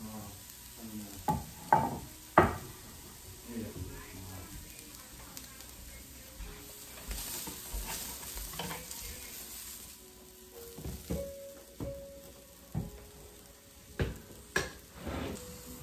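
Peppers grilling Jamaican style on a hooded grill: soft, fairly quiet sizzling with scattered sharp clanks and scraping knocks from handling, irregular and close.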